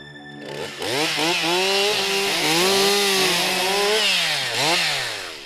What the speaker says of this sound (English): It's great to see chainsaws being used constructively for once.